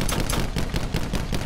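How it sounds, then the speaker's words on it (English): Rapid gunfire in the Call of Duty Black Ops 4 Blackout battle royale game, dense bursts of shots rattling continuously and loud for the whole moment, with no voices over it. "I'm getting shot at."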